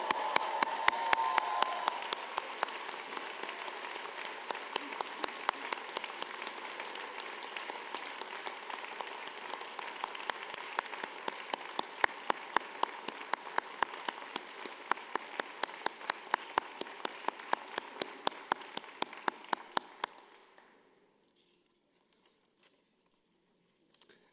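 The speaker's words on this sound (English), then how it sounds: "please join me in a round of applause and congratulating our graduating class of" Sustained applause from a convocation audience for the graduating class of 2014, dense steady clapping with a few sharper claps standing out, fading out near the end into quiet.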